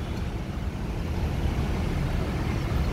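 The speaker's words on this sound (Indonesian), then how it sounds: "Ada Putra Pelangi, bus Medan." Putra Pelangi bus from Medan bound for Jakarta passing close by, a broad, steady low engine rumble and road roar holding at constant loudness through the short stretch, with no talk.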